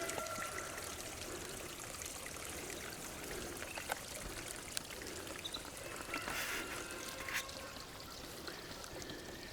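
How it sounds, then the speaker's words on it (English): Water runs through a newly dug homestead trench, a quiet, continuous trickle and pour with small splashy flickers and no voices. "take you guys on over here so you guys can see that water moving"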